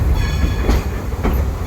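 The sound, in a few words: Dollywood train Klondike Katy running on rails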